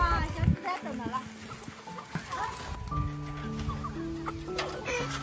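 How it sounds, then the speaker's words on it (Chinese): Chickens cluck and squawk at feeding time when feed pellets are put out, a busy, overlapping chorus of calls close by. A human voice also sounds briefly among them. "喂鸡喽！"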